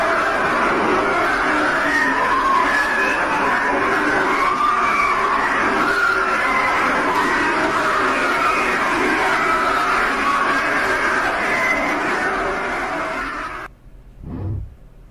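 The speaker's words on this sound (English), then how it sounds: "it was 17 horrifying seconds of the screams of the damned" A purported recording of screams from hell: a dense, continuous mass of distant wailing and bellowing voices over a rumbling drone that cuts off abruptly near the end.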